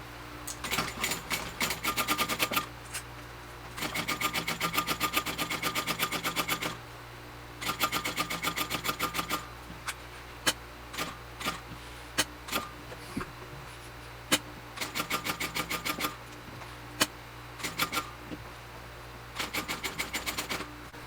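A sewing machine top-stitches around a vinyl overlay on a Brivet backpack, running in rapid bursts of close, loud needle clatter separated by pauses and a few short stop-start stitches.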